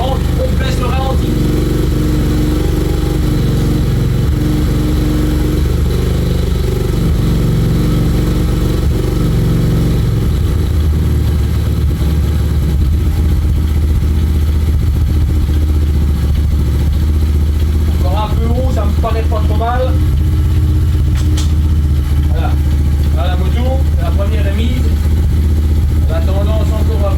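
A 110 Rookie motorcycle with a freshly replaced engine and new oil idles steadily and loudly, the idle dropping partway through, while someone talks intermittently over the running engine.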